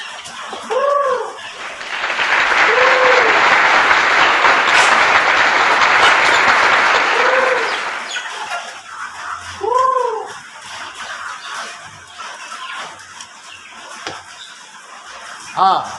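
Backyard chickens cluck in short calls while mixed feed is given to them, with a stretch of broad rustling noise in the middle and a person talking nearby.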